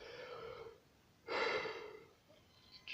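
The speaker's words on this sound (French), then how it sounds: "je m'excuse pour le bâillement, un peu de fatigue aussi" A man's tired yawn in a spoken French talk on the Gospel of John, a drawn-out breathy exhale rising suddenly and fading over a second, heard alone after a brief quieter breath.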